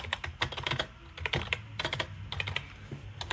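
Keys clack rapidly on a Snpurdiri 60% wired gaming keyboard, including presses of the enter key, a close run of sharp plasticky taps in uneven bursts with no talking.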